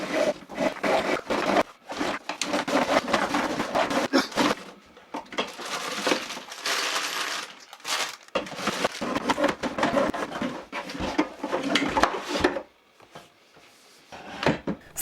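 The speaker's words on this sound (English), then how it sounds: "you need to pull the hose out of the reel by carefully cutting the strap and simply pulling it out" Hose pulled out of a Hozelock wall-mounted compact hose reel kit, with repeated rustling, scraping and plastic clattering bursts, some longer dragging passages and short pauses, close and fairly loud.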